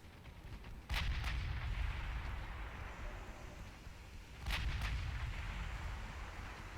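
Warship turrets booming in the naval game Ultimate Admiral Dreadnoughts, two heavy broadside salvos a few seconds apart, each a loud low blast with a rumbling tail over steady battle noise.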